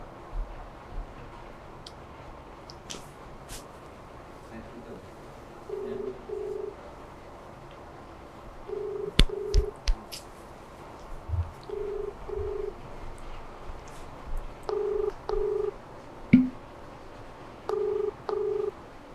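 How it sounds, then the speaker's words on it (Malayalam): A phone call being placed, with short repeated electronic tone bursts sounding every few seconds, faint under a quiet room background with scattered clicks. "എന്നെ അപ്രോച്ച് ചെയ്ത ആളെ ഞാൻ വിളിക്കാൻ പോവാണ് ഇവിടെ."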